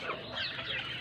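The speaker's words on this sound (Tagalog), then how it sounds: "Ayan yung mga alaga namin guys na manok oh." Shamo and Rhode Island chickens cluck softly at close range in a short burst of low, rapid clucks.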